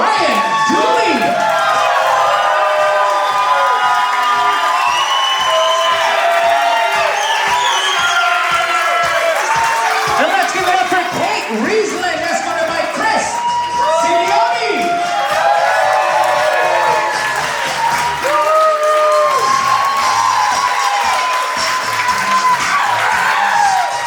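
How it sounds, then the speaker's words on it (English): Guests at a wedding reception cheer, whoop and applaud steadily as a bridesmaid and groomsman are announced, a loud, dense crowd with shouts rising above continuous clapping throughout. "A big round of applause for bridesmaid Amy Hall, escorted by groomsman Ryan Dooley."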